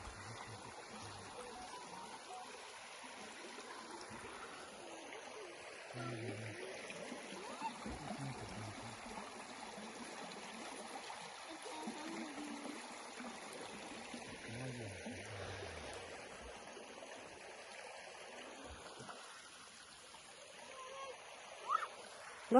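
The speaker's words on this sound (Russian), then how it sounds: "Чисто с гор вода бежит, наичистейшая." Clear water from a mountain stream runs in a steady, soft trickling flow that stays faint and continuous, with a few small splashes and quiet voices in the background.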